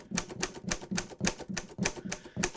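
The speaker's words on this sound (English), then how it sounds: "We sampled a typewriter, and most of the notes are going to be different samples of the keys being struck" Typewriter keys struck one after another, sampled as the notes of a boutique horror instrument; a steady run of about nine crisp, close clacks with no other sound.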